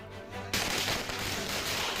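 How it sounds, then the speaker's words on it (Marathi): A sudden burst of firecrackers at a political celebration crackles and rattles continuously after a quieter start, loud and dense, with no voices. "यावेळी येवल्यामध्ये भुजबळ कार्यकर्त्यांनी पेढे वाटत फटाके फोडून जल्लोष केला"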